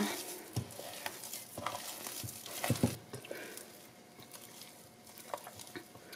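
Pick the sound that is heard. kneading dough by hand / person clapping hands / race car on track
kneading dough by hand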